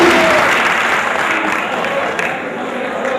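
Dense applause from the audience at a kavi sammelan and mushaira in Chennai, a loud sustained wash of clapping that slowly eases over a few seconds.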